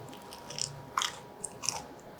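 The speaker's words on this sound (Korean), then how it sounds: "바삭바삭한 소리 들리시죠?" Three crisp crunchy bites of fried eggplant, close and clear, each a short crackly burst spaced about half a second apart over quiet background.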